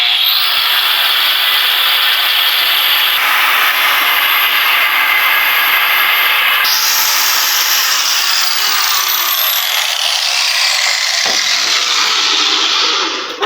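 An angle grinder runs loud and steady on a welded Mustang body panel, its continuous high whine shifting in pitch as it bears into the metal before spinning down at the end.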